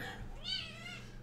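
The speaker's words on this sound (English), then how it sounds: "Being attacked by my kitten." A kitten gives a single soft, drawn-out meow, faint and close amid low background hum, with no talking over it.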